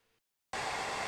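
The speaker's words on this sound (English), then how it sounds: "We're actually using a hairdryer." A hair dryer switches on after a short quiet gap and blows as a loud, steady broadband rush, used in a levitation magic trick.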